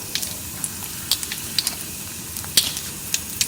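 Mustard seeds and dried chillies fry in hot oil for tamarind rice, a steady close sizzle with scattered sharp pops and crackles from the bursting seeds.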